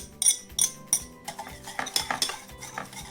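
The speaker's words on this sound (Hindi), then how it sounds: "तो पहले इसको अच्छे से मिक्स कर लेते हैं इन चारों चीज़ों को" Orange juice cake batter of four ingredients, with orange zest, is mixed in a bowl: three quick metallic clinks of a spoon against the bowl, then a stretch of rhythmic stirring and scraping, close and alone.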